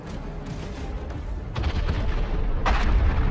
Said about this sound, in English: Another epic explosion.